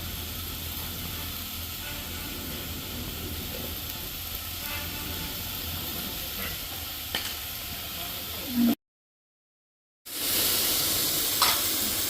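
Vegetables sautéing with salt in a pan give a steady, moderate sizzle close by, with a few light clicks, then a brief gap of silence before the sizzling resumes a little louder.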